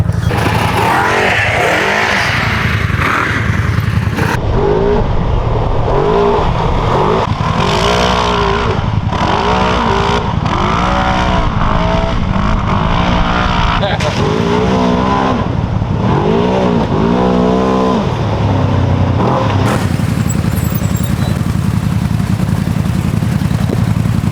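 Engine of a Segway Villain or CFMoto SSV side-by-side off-road vehicle heard close during a ride, rising and falling repeatedly in loud revving bursts before easing toward a lower drone near the end.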